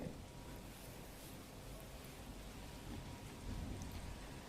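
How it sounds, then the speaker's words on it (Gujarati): Dense, steady wash of heavy monsoon rainfall in Gandevi, Navsari, Gujarat, constant and enveloping, with a faint low rumble underneath. "ધોધમાર વરસાદના કારણે હાલ તો વાતાવરણમાં ઠંડક થઈ ગઈ છે"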